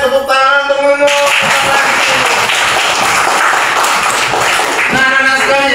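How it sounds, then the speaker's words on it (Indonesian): Classmates clap for a student named Nunung in a school classroom, a steady burst of group applause that fills most of the stretch, with a brief musical tone at the start and end. "Ayo tepuk tangan untuk Nunung."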